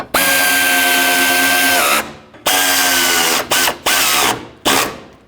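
A power tool runs up against the intake duct bolts on a 2002–06 Toyota Camry during radiator replacement, giving one long whirring burst followed by several shorter bursts that end abruptly, close up and loud, with no talking.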